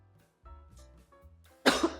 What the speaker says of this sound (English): I have a little bit of a cough here